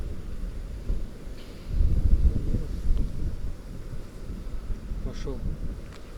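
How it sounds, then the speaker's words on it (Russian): Strong wind sweeps across a frozen lake during winter ice fishing in Latvia, a deep blustery rumble that buffets the microphone in surging gusts, with a heavier blast midway and faint voices in the background. "Вот такой ветер не мудрено."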